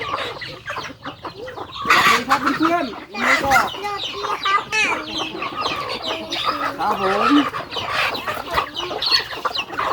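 Chickens cluck and squawk on a small family farm, a dense, close and fairly loud flock calling throughout, while someone speaks over them.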